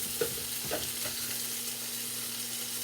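Onions and carrots fry in a pan while being stirred and pushed around, a steady loud sizzle running throughout with a few soft scraping bumps of the utensil early on.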